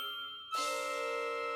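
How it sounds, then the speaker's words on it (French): A bell collar jingles with a bright, sustained ringing shimmer that starts abruptly after a softer tone and keeps ringing evenly to the end. "Ils ont un collier de cloches."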